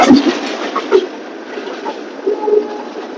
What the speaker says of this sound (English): now there as you can see also some train engine coming here